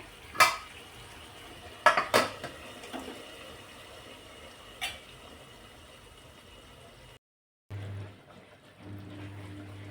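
Metal lid set onto a pot of simmering butter chicken in a dhaba-style home kitchen: a few sharp clanks and rattles of cookware, then a brief quiet gap and a low steady bubbling hum.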